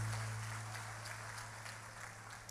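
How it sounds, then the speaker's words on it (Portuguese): A church congregation applauds during a worship service, a steady wash of clapping with a low hum beneath, easing slightly in loudness over a few seconds and free of speech. "Os que podem, tomem o seu assento aplaudindo a Jesus"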